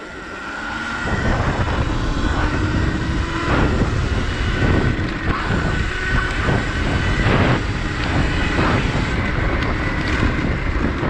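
A Surron Light Bee X electric dirt bike is ridden over rough terrain, with a steady high motor whine under loud wind buffeting and rattling that carries on continuously from the start.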